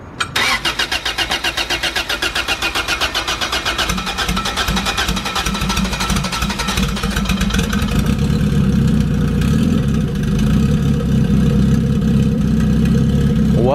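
A turbocharged Honda EJ1 with a damaged transmission cranks with rapid rhythmic starter pulses, then catches and settles into a loud, rough, throbbing idle close by.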